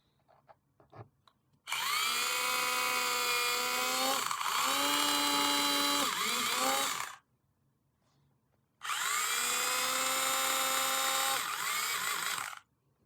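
Power drill countersinking holes in a VZ chassis front plate, two long loud whining bursts of several seconds each separated by a short pause, with faint clicks before the first run.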